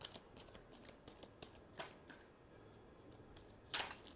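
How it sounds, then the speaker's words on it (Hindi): Tarot cards being shuffled by hand, a quiet close run of soft riffling flicks and taps in an uneven rhythm, finishing with a sharper burst of snapping cards. "Last shuffle."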